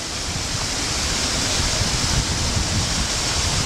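Waterfall tumbling near a landslide left by Hurricane Tomas in St. Lucia, a steady, loud broadband roar of rushing water that holds constant throughout with no voices.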